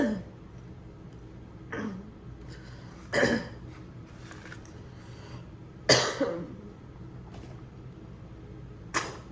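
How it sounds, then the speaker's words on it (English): A person coughs in short, harsh bursts, four or five times spaced a couple of seconds apart, fairly close in a quiet room. "what's making me cough so much at this moment."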